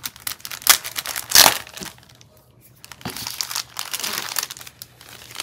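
Paper crinkles and rustles up close as a vintage mail package from the 1910s–1920s is carefully opened, with irregular bursts of crumpling and a brief tearing sound.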